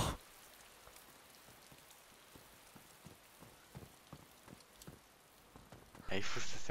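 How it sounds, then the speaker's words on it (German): Heavy rain falls in the survival game DayZ, a steady patter of drops with scattered sharper hits, and near the end a louder burst of hiss swells up. Faint voices may sit underneath. "wie krass es jetzt regnet"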